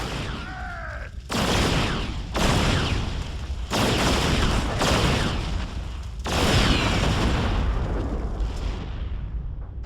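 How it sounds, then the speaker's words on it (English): Heavy railgun fire from a hover tank pounds a Thor walker in StarCraft 2, a dense, continuous barrage of loud booming blasts and impacts with rumbling low end and surging bursts. "It can actually fire on the move, and it uses his powerful railguns to batter through the Thor's thick armor"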